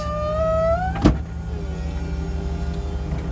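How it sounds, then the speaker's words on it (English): An electric motor whines with rising pitch, then a clunk as it stops, followed by a steady lower mechanical hum as a Chevrolet SSR's convertible roof opens. "you push that and the top will open up for you"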